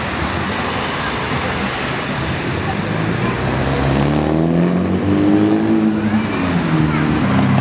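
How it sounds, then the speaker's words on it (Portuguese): A Chevrolet Corvette drives past on a busy city street, its engine rising and falling over steady roadway traffic noise, with people talking nearby. "Novamente o Corvette."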